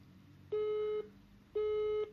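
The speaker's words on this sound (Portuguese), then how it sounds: "Deu 2 bips, desligo." Two identical electronic beeps, each about half a second long, sound clearly from an intercom unit with a short pause between them.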